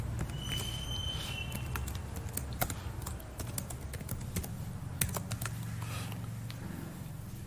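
Typing on a computer keyboard while writing a React Testing Library UI test: steady, close key clicks with brief sharper taps over low hum, no talk.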